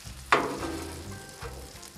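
Bacon frying in a black steel skillet, with a sharp crackle at the start that settles into a steady, close sizzle and faint spitting, and no voices.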